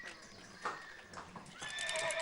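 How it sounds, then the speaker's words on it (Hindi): Horses neighing and whinnying with hoofbeats clip-clopping as they run on a TV serial set, a sharp whinny near the middle and a louder, sustained neigh toward the end. "यहाँ से घोड़े भाग के आएंगे सर"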